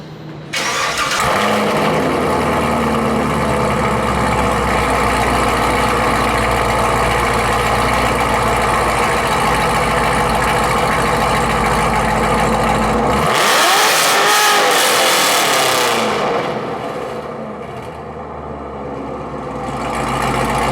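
A car fitted with a Borla Attack exhaust starts and idles loudly and close, then rips into a sharp rev around the middle before settling back to a steady idle, echoing in a parking deck.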